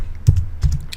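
Computer keyboard keys tapped while entering a search query, two short bursts of clicks close by, fairly loud, no talking.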